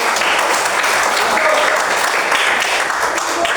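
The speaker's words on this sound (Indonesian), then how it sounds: "tepuk tangan dulu untuk." A round of applause from a classroom of learners, brisk and continuous at close range for the whole stretch, with no pause or fade.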